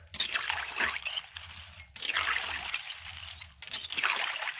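Freshwater snails stirred in salted turmeric water in a pot, three close swishing, sloshing passes of liquid and shells, each a couple of seconds long and separated by brief pauses.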